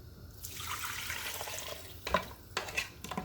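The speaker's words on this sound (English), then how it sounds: "So what I do with the water is I put it in the pot" Water splashes and pours into a cooking pot while Jamaican oxtail is prepared, a steady stream followed by a few sharper sloshing bursts near the end.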